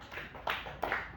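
Schoolchildren in a classroom clap softly in a few brief, light bursts, close and fairly quiet, with no talk over them.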